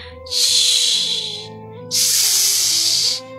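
A voice imitates a snake's hiss in two loud, breathy bursts, each lasting about a second, with a short pause between them. Soft background music plays underneath.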